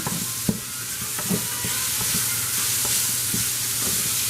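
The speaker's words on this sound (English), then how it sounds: "It smells so good in my kitchen right now, just sauteing this. ginger" Ginger sautéing on high heat in a pan for a Moroccan chicken tagine gives a steady, close sizzle, broken every second or so by the scrape and knock of a stirring spoon.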